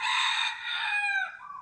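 A rooster crows close by, one long loud bright call that rises and then tapers off, standing alone with no talk over it.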